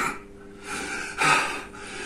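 A voice imitates a snort, giving a breathy nasal gasp over faint background noise.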